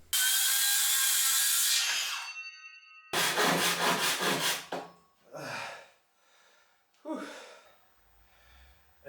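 A hand pull saw cuts through wood at a garage workbench, with a run of quick rhythmic rasping strokes after a loud initial burst, then a few slower, separate scraping pulls, close and fairly loud.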